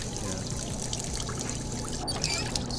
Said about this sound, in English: We'll just fill it with regular water.